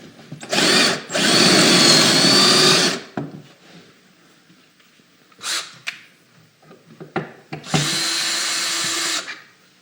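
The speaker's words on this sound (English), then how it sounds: "what we're going to do is run a screw in here to hold the handheld in place" A power drill drives a screw into a wooden jig while building a window seat, sounding in two long, loud, steady whirring bursts, with brief clicks and knocks between them.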